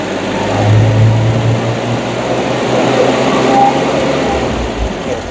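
A Kubota engine with an intermittent hesitation runs as its RPM is raised slowly, a loud, close, steady mechanical drone with a low hum that rises gently without stumbling.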